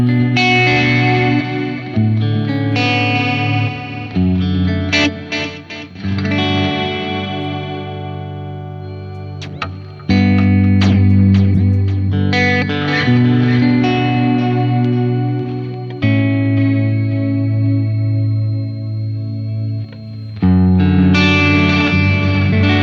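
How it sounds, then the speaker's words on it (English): Electric guitar played through an MXR Joshua ambient echo pedal with a lower octave added, producing sustained chords washed in shimmering, chorus-like delay trails that swell and overlap across a long passage without talk. "I love the MXR Joshua delay."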